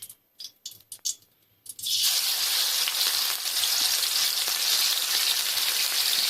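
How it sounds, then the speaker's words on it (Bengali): After a few quiet clicks, onion, ginger and garlic paste drops into hot oil and bursts into a loud, sustained, close sizzle that holds steady to the end. "পেঁয়াজ আদা রসুন বাটা গুলো গরম তেলের মধ্যে দিয়ে দেবেন"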